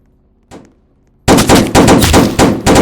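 Rapid automatic fire from an FN-47 with a drum magazine and an AK in a video game, a single faint report followed by long, loud, close bursts of dense shots.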